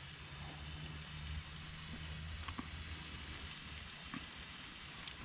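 Food fries in a pan at a campsite with a soft, continuous crackling sizzle, close but quiet, a low hum underneath and a few faint clinks.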